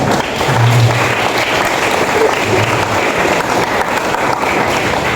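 Applause from an audience at a public lecture given by a regency head, a steady wash of clapping throughout with a low hum underneath.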